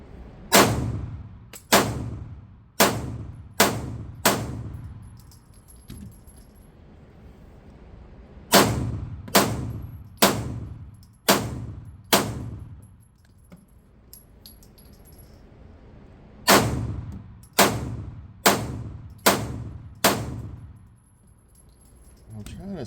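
Pistol shots from Smith & Wesson M&P 2.0 handguns, full-size Competitor and compact Carry Comp, at a shooting range: three loud, close strings of five sharp reports each, separated by pauses.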